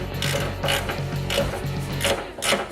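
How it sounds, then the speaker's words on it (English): A socket ratchet clicks in quick bursts while tightening a bolt on a Borg Warner 4410 transfer case being installed on a Mountaineer or Explorer, close and clear with no talk. "Let's go ahead and get the other one tightened and then torqued."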